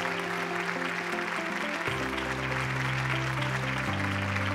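Sustained clapping from an audience at a financial brands awards ceremony, a steady broad wash of applause mixed with loud music chords throughout.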